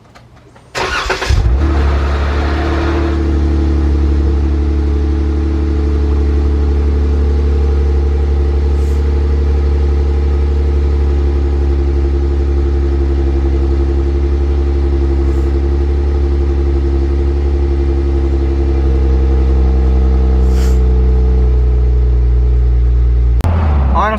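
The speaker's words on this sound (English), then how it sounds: "I'm gonna go ahead, start the car, and I'll take you guys on a tour" A 2018 Jeep Wrangler JK engine cranks and catches after a brief click, then settles into a loud, close, steady rumbling idle with a low hum that carries on to the end.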